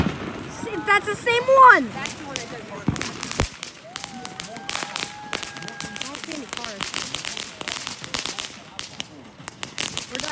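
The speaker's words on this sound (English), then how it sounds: "Doing the fireworks in the road." Fireworks set off in a road at a Fourth of July gathering give a few sharp bangs and a brief whistling tone under excited talk from people nearby.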